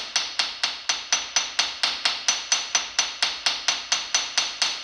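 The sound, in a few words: hammer peening punch marks on a crank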